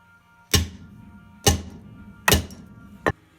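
Crimping tool pressing a wire fitting onto a winch cable during an ATV/UTV winch repair, giving four sharp close thunks spaced about a second apart, with the last one shorter.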